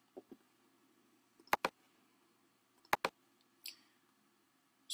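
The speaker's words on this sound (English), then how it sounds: "So let's go to download and click the download button." A computer mouse clicks close by on a Mac, in two quick double clicks spaced apart, with a faint rustle of movement between them and no talk.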